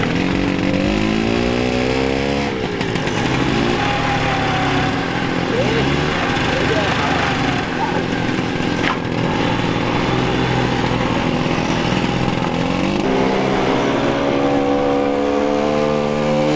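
A moped engine runs continuously close by, a buzzy two-stroke drone that shifts in pitch as it revs up and down, loud throughout with people talking over it.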